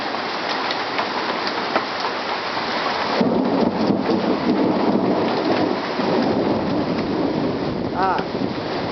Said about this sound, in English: Oh my gosh, it's hailing.